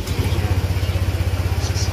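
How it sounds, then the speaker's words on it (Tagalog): A fuel-injected Honda motorcycle engine runs up close, settling into a steady, low, even throbbing pulse with no break across the short stretch. "So start natin yung motor."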